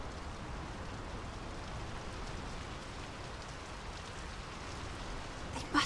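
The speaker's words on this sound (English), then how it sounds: "The rain's picking up." Steady rain pours through the game world of Draugen, a dense even hiss that stays constant throughout, with a brief louder knock right at the end.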